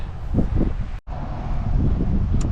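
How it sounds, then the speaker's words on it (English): Steady outdoor wind at Boone Lake buffeting the microphone, a broad rumbling roar that continues throughout with a brief dropout near the middle. "but definitely windy"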